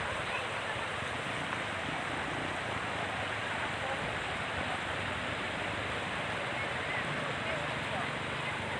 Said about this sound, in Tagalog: Guys, nandito na kami sa ilog